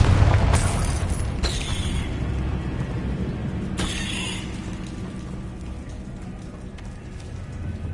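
Confringo blasting spell from Hogwarts Legacy going off in sharp explosive bursts, two close together at the start and a third a few seconds later, over a constant rumbling background.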